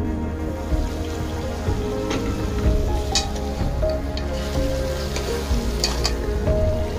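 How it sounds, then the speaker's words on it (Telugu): A curry of goat trotters and head meat fries in oil while being stirred, giving a steady close sizzle with soft scraping stirs throughout and no voices. "5 నిమిషాల పాటు ఆయిల్లో మగ్గిన కూరను ఒకసారి కలుపుకుని"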